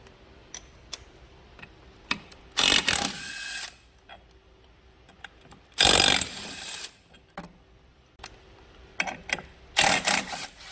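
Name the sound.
ratchet loosening 10mm and hex bolts on Quasar engine scooter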